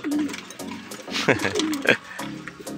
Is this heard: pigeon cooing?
yes